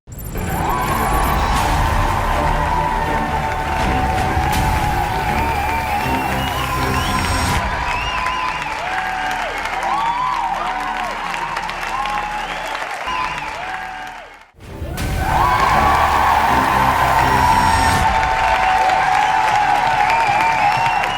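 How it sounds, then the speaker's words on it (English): Studio audience applause and cheering on a game show, loud sustained clapping with whoops and shouts over music, dropping briefly before bursting back up just as strong. "Big round of applause"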